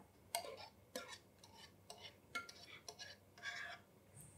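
Custard mixture being stirred in a bowl, giving a series of soft clinking taps and scrapes at a slow, uneven rhythm, faint and close with no talking.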